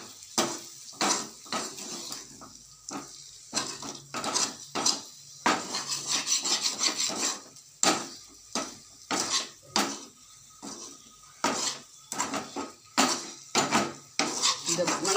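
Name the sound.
stirring and sautéing boiled eggs in oil in a pan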